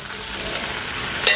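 Green chillies roasting with cumin seeds in a hot pan, giving a steady close sizzle and crackle with faint stirring scrapes throughout, no voice.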